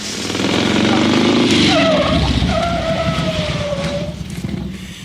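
A tricycle, a motorcycle with a sidecar, pulls over and comes to a stop, its loud close engine roar fading as it slows, with a brief squeal of brakes or tyres.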